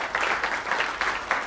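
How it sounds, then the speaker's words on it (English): Audience applause at a school performance, a short burst of steady, dense clapping from a crowd. "Big round of applause, please."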